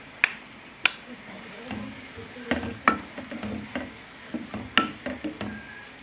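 Sweet pepper, green chili and red onion sauté in a pan with a soft, steady sizzle, punctuated by sharp clicks and taps as a utensil stirs and scrapes.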